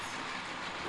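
A toy train runs steadily with a continuous rumbling, rattling clatter, close and fairly loud, with no voices.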